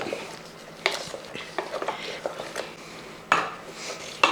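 A utensil stirs chicken curry in a pot after salt is added, in a home kitchen making kappa and chicken. Close metallic clinks and scrapes come in irregular bursts over quiet background noise.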